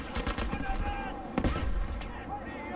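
Gunfire rattles in Battlefield V: bursts of rapid shots, some close and sharp, others more distant, crackle across a busy battle soundscape with a voice briefly speaking.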